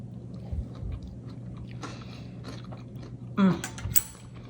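Biting and chewing of chicken salad with celery and nuts, heard as close, crisp crunching and soft mouth sounds over a steady background hum, with a sharper crunch near the end.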